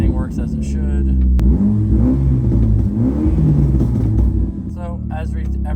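Saab 9-3 Viggen engine given a quick rev, a steady loud car engine rumble rising and holding through most of the stretch before easing back to idle, with faint voices at the start and end.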